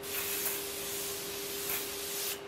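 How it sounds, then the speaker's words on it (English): Makeup fixing spray mists out in a steady, close hiss lasting about two seconds, with a couple of brief stronger puffs along the way and no talking. "What I'm using right now, I've been using fixing sprays lately,"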